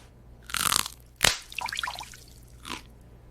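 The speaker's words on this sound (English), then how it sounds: "Just pop the beans out." Edamame beans pop out of their pods at a Japanese restaurant, heard as a few close, crisp squishy pops and crunches in quick succession over about two seconds, with no speech.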